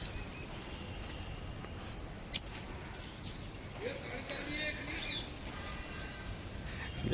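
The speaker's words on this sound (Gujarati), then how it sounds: "પોપટ જો અલગ અલગ જાતના" Parrots of several kinds at a farmhouse give sharp chirps and squawks, one loud call standing out amid scattered fainter tweets against a hushed outdoor background.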